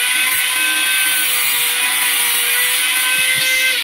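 A power drill bores into a stainless steel railing bracket during a railing installation, a loud, steady, high-pitched whine held close up for nearly four seconds before it cuts off abruptly, with no voices.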